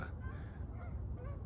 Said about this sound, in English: more geese.